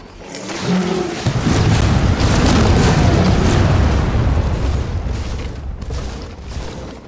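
Airstrike explosions in the Gears of War 4 game, a loud rolling wall of blasts and rumble that swells after the first second and slowly fades out, close and heavy.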